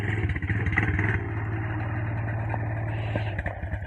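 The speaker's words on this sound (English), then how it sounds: "Here comes my kid on the four-wheeler." Four-wheeler ATV engine approaching, a steady low droning putter with clattering mechanical texture and slight rises in revs, fairly close and continuous throughout.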